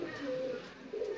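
Pigeons coo in a loft of broad, long-feathered birds, a soft low cooing that swells and fades over about a second, close by with a faint background hiss.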